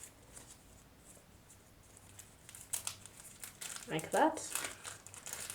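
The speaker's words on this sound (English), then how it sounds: "So you can open this plastic" Plastic wrap on a Redmi Buds 6 earbuds box being crinkled and pulled open, a few soft rustles building to a louder burst of crackling near the end, close up, with a voice speaking briefly.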